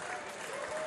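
Spectators applaud briefly at a women's darts world championship match at Lakeside, a short, moderately loud burst of crowd clapping heard under the hall ambience.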